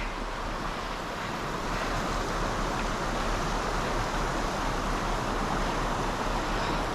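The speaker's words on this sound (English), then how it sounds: "A lot of waterfalls." Steady rushing water roars continuously, a broad dense wash of falling water with a low rumble, loud and unbroken.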